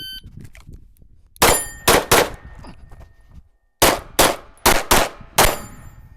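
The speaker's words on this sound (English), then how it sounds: "I'm going to shoot plate, paper, move across the barrel stack, and then shoot the other two papers and the plate again." Gunshots hitting steel plate targets on a shooting course, with eight sharp, loud reports in two quick groups separated by a pause, and quieter rustling and movement between them.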